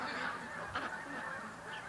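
Canada geese honk at a lake, a steady low chorus of calls from a large flock at middle distance, with one slightly louder burst partway through and no talking.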